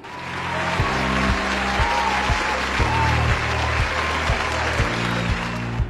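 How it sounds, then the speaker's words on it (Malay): A studio audience at a teen variety show applauds loudly and steadily, with brisk, dense clapping over a rhythmic musical backing. "Tepuk lah."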